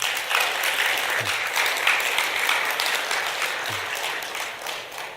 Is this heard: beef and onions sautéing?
no